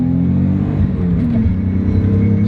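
A Nissan 300ZX Twin Turbo pulls hard under acceleration, a loud, close engine roar with a steady rumbling drone and a faint turbo whine riding on top, no voices.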